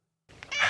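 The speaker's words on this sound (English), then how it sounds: "It was a cat." A cat's meow from the 1993 horror film Leprechaun, a short, fairly loud cry that starts abruptly out of silence and rises in pitch.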